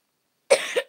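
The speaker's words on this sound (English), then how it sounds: "Sorry, I've got a bad cough." A single harsh cough from a person reading aloud, close and fairly loud, a short explosive burst followed by a second rougher push before it fades, alone in quiet.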